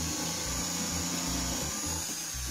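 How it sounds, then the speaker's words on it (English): A power drill bores pilot holes into the plywood of a conure nest box, giving a continuous loud whirring grind with slight changes in pitch as the bit cuts, close and alone. "He's going to drill some pilot holes in the upper corners to put hooks in"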